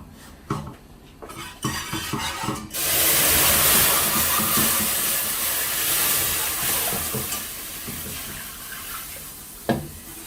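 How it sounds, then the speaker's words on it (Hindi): Milk is poured into a hot pan of cooked-down roux for a lasagna white sauce. A few close clinks come first, then a loud, steady sizzling hiss fills the rest, with one more sharp clink near the end. "अब इसमें शामिल कर देते हैं दूध।"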